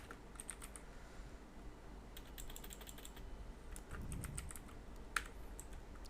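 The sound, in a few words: typing on a computer keyboard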